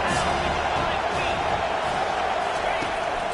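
Stadium crowd noise in a college football video game, a sustained broad roar filling the background under someone commentator's voice.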